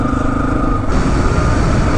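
A Yamaha XT250 motorcycle is ridden at about 30 mph in fourth gear, with a close, steady engine drone and heavy wind rush throughout.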